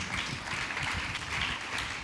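A church congregation claps together at a prophetic ministry service, a dense, continuous wash of many hands heard from a distance, steady and fairly faint throughout.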